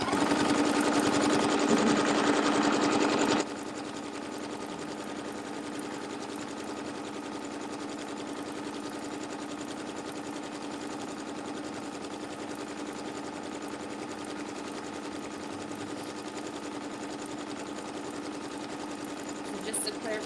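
A domestic sewing machine runs a regular straight stitch with a loud, steady mechanical whir that drops to a quieter, even hum after about three seconds and continues throughout.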